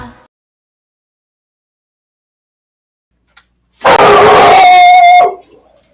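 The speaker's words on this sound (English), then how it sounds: "I hear your baby barking, James." After near silence, a dog lets out a single loud, close, drawn-out howling cry lasting over a second, then quiet returns.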